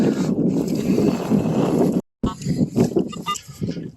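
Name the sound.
cold wind blowing outdoors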